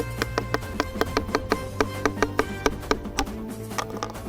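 Rapid, regular taps on a resonant ringing rock on a mountain, each strike ringing briefly with a bright metallic tone, steady rhythm, moderately close.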